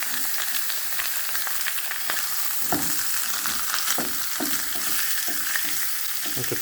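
Loin-cut pork chops sizzle loudly and steadily as they pan fry in bacon fat, with occasional clinks and scrapes in the pan.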